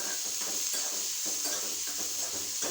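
Capsicum and egg for a poriyal fry in a pan with a steady, close sizzle and hiss, with faint stirring scrapes now and then.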